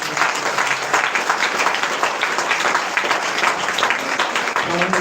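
Congregation at a Sunday prayer meeting clapping loudly together in a steady, dense wash of applause lasting the whole stretch, with voices mixed in underneath.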